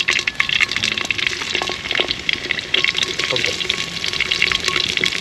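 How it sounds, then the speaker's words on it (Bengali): Onions dropped into hot oil in a clay pot for a village-style Kadaknath chicken curry, giving a steady close sizzle and crackle with stirring clinks, under a voice talking. "তেল গরম হয়ে গেছে, এখন আমরা পেঁয়াজটা ছেড়ে দেব"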